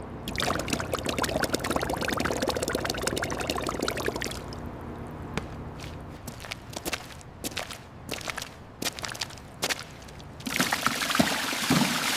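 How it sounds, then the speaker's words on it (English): Fluid drips and trickles from the engine of an abandoned police car that had been buried in a swamp, steady close-up dribbling and splashing with intermittent sharper drops and clatter, louder at the start and end. "Careful, it's still dripping."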